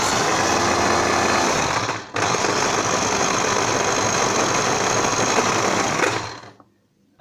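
A kitchen blender blitzes a black summer truffle sauce in one steady, loud whirring run with a brief dip near two seconds, then winds down and stops.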